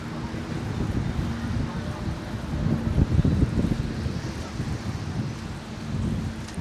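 Strong wind gusts across a Benidorm beachfront near Tossal de La Cala, a steady loud roar with low rumbling buffeting on the microphone that swells briefly around the middle.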